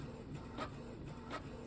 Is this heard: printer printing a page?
yes